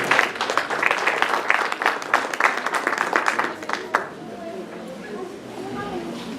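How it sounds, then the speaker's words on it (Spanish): A church congregation claps together for about four seconds in a dense, lively burst. The clapping then gives way to a quieter stretch with a voice speaking. "denle palmas al Señor, hermano"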